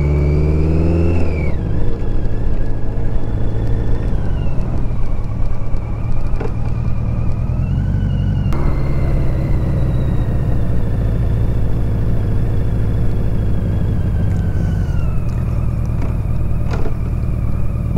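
A BMW K100 motorcycle engine runs loudly and close up on its first ride, a steady droning hum that rises and falls in pitch as the revs change, with no talk.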